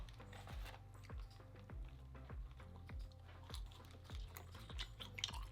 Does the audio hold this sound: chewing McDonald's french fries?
yes